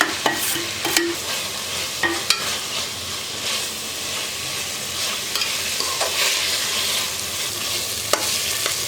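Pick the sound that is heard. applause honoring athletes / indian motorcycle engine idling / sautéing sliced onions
sautéing sliced onions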